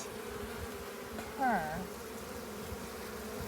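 Honeybees buzz faintly around an open hive in a steady, low hum, with one louder close fly-by buzz sweeping past in the middle and a voice briefly heard.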